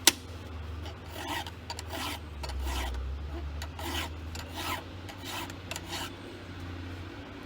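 Hand file rasping across the teeth of a chainsaw chain in steady, repeated strokes, each stroke a bright scraping burst close up, about a dozen in a row over a constant low hum.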